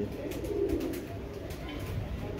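Soft, low cooing from Heera Laal pigeons murmurs steadily against a dense, noisy background, continuous rather than in distinct calls.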